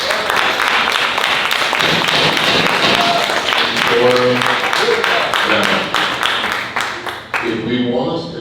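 An audience at a city council meeting breaks into sustained clapping, dense and fairly loud, thinning toward the end as a voice begins speaking over it.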